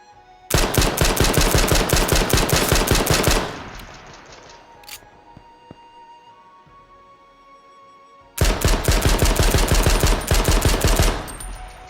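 Two long bursts of rapid automatic hip-fire gunshots from a weapon in the video game H1Z1 rattle loud and close, with a quiet pause of several seconds between them.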